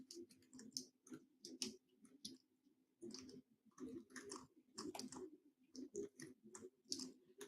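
Typing on a computer keyboard, close and quiet, with irregular bursts of clicking keystrokes in short runs separated by brief pauses, and no one talking.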